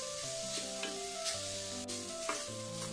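A tomato frying in a pan for Kerala vellapayar puli curry gives a steady close sizzle, with stirring clatter and low tonal hum underneath, no voices.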